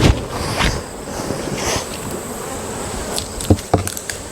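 Honeybees buzzing around a hive as it is being closed up, a close, wavering hum with individual bees passing near, joined by a few light knocks and handling noises.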